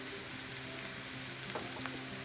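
Shredded cabbage, green beans, carrots and peas stir-frying for Chinese vegetable fried rice, a steady close sizzle with a couple of faint scraping stirs near the end and no talking.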